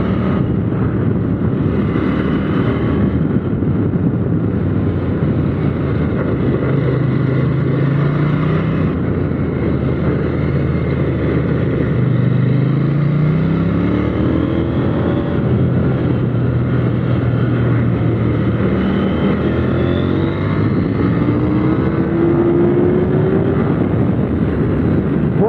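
A KTM 890 Duke R motorcycle accelerates hard around a kart track in third gear, its engine note rising and sweeping in repeated climbs under steady wind roar, with no talk.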